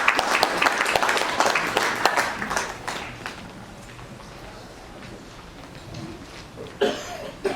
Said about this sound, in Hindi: आपका बहुत बहुत जोरदार तालियों से स्वागत है डी गुहन साहब।